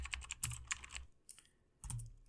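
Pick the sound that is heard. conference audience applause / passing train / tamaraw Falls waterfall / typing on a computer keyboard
typing on a computer keyboard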